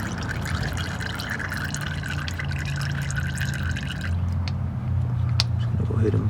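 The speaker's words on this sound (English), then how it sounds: "Let the tranny fluid drain." Transmission fluid drains steadily from an Acura Integra DB7 during a build, a continuous close pour and trickle of liquid lasting several seconds.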